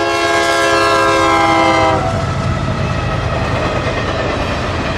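CSX freight train led by heritage locomotive 1871 in Atlantic Coast Line colours, sounding a loud, sustained horn blast that cuts off into the steady roar and rumble of the passing train close by.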